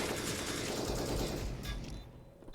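A short, dense burst of automatic gunfire in a Counter-Strike: Global Offensive match, loud and crackling, fading off after about two seconds.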